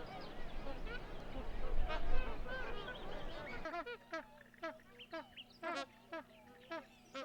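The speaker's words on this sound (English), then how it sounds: "the loud honking calls of the magpie geese immediately draw my attention" A crowd of magpie geese honks continuously at a lagoon, first as a dense overlapping chorus, then as sparser, repeated nasal calls from nearby birds.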